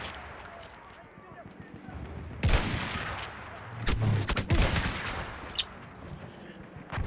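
Gunfire in a first-person shooter video game: rapid crackling volleys and sharp shot bursts come in irregular clusters over a steady game background at moderate level, with some talking.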